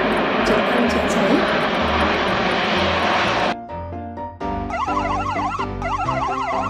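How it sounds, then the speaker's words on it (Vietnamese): A firefighting helicopter roars loudly and steadily for a few seconds before the sound cuts to a different scene with a wailing emergency siren. "Trực thăng chữa cháy đặc biệt cần thiết cho đám cháy rừng"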